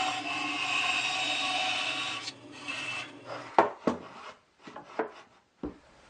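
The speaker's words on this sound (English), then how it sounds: "So I'll just do that while it's assembled on the bandsaw." A bandsaw cuts a profile into a wooden part for a round sander: a steady, rasping whine runs for about two seconds, then stops and gives way to scattered close knocks and clatter.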